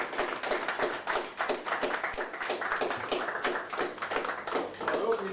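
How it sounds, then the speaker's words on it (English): A small crowd at the end of a live-action roleplay event claps for the organizer, giving steady, close applause for about five seconds with a few voices mixed in. "I think round of applause for you"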